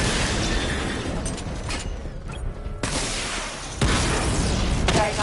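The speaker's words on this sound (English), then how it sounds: "Destroy targets to charge up weapon energy and activate missile barrage." Missile barrage explosions in Batman Arkham Knight: a dense, loud run of booming blasts and bursts, with short lulls and renewed heavy detonations toward the end.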